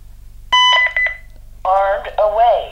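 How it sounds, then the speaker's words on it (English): A Honeywell L5200 alarm panel arms with a sharp electronic beep, followed by a synthesized voice announcement and further tones, close and clear. "you'll hear the panel arm"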